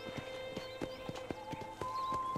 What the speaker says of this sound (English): Is that as fast as you can make your horse walk?